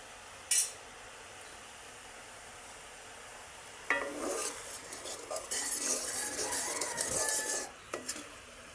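Puffed rice stirred in a pan while making moa, giving dry scraping and rustling with a few metallic clinks of a spatula, near and intermittent after a quiet start, with no talking.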